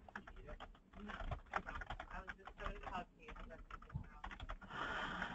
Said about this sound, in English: We are definitely hearing somebody just typing away